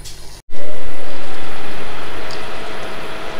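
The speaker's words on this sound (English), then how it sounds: "That noise you can hear is a cooling fan in the back." Cooling fan at the back of an automatic ice cube machine, switching on to cool the compressor: a loud, steady broadband whir that starts abruptly after a brief gap and keeps running with a faint hum beneath.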